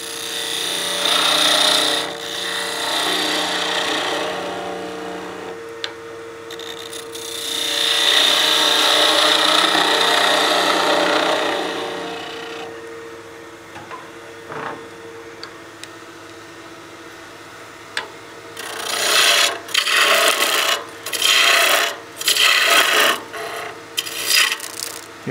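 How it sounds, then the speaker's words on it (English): Skew chisel cutting torn wood fiber on a spinning lathe workpiece, a birdhouse ornament: sustained scraping rasp in long passes, then a pause and a burst of short, choppy cuts toward the end, close and fairly loud. "I'll use my skew to clean up this torn fiber"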